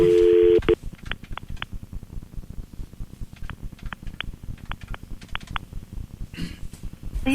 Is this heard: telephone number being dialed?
yes